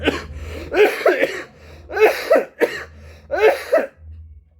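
A man with a worsening cough being treated with medicine coughs in three close, harsh bursts, each a cluster of hacking coughs, loud and near, with a low hum underneath and brief pauses between fits.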